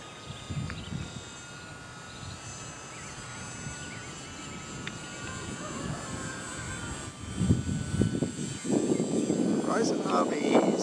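A Horizon UMX Cessna 182 RC model airplane takes off and flies, its small electric motor a thin whine under people talking, growing louder toward the end.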